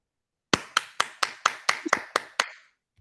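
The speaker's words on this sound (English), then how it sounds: "I'm clapping for you." One person claps hands about nine times in an even, quick rhythm, crisp and close in an otherwise quiet room, the sharp claps ringing briefly before stopping.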